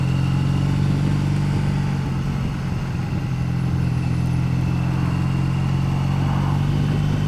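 A 2014 Triumph Bonneville motorcycle engine runs steadily while riding, a loud continuous mid-range drone with a strong low hum and wind rush, holding near-constant throughout with no talk.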